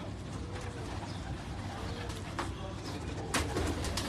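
Pigeons coo in a pigeon loft, with soft repeated calls over a busy background and a brief sharper sound near the end.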